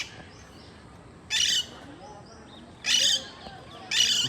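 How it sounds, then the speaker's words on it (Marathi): Parrots at the old coastal Vasai Fort give three harsh, loud squawks spaced a second or more apart, each a short bright burst over quiet evening background noise. "कोणतरी ओरडतो इथे पक्षी. हे पोपट, हे पोपट थांबा दाखवतो."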